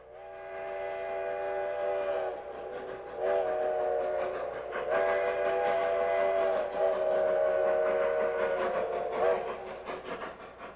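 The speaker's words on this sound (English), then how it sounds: "Trains of the Cumbres and Toltec Scenic Railroad travel up steep mountain grades" The whistle of a Cumbres and Toltec Scenic Railroad narrow-gauge steam train in the mountains of northern New Mexico and southern Colorado sounds loud and close in several long, sustained blasts separated by brief pauses.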